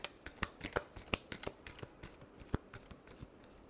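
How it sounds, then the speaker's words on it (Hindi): Tarot cards shuffled by hand in a quick irregular run of crisp riffling flicks and soft slaps, close and fairly quiet, with no talking. "Last shuffle."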